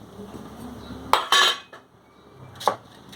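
Metal pots and utensils clink and clatter in a few short bursts, with quiet room noise between them.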